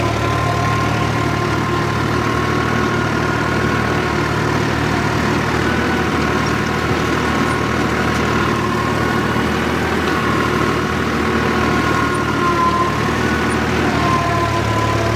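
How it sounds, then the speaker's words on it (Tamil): A tractor engine drives a rotavator through a field, a steady loud mechanical drone with a constant low hum and even, unbroken intensity throughout, no talking. "லொட்டேட்டர் ஓட்டுற வீடியோ தான் லொட்டேட்டர் தான் ஓட்ட வந்துருக்குறோம்"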